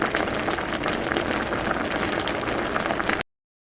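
Apple syrup with brown sugar boils on a stovetop burner set to high, a dense, continuous close bubbling and popping that stops abruptly at the end.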